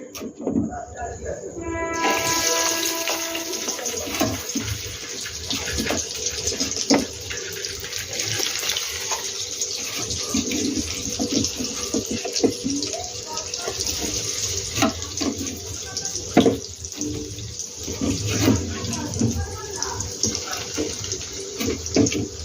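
Paneer pakoras fry in hot oil over a low flame, a steady broadband sizzle with crackling pops running throughout, fairly close; a faint voice murmurs at times beneath it.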